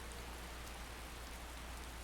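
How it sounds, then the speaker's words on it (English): Steady rain from a weather mod in the video game Fallout: New Vegas, a dense even hiss of falling drops with no individual splashes standing out, constant and fairly soft, no voices. "It's only raining on one side and not the other side."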